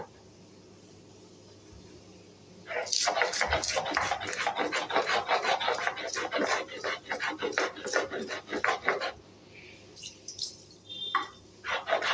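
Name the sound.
grinding chillies into paste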